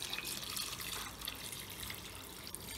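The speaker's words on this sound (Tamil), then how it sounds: "5 கப் தண்ணி ஊற்றிக்கிறோங்க" Steady hiss of water pouring and splashing into a pot of rice for mushroom biryani, continuous and moderately loud throughout.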